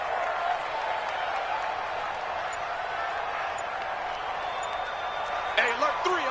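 A football stadium crowd roars and applauds after a big play, a broad sustained wash of cheering at steady volume, with a brief sharper burst near the end.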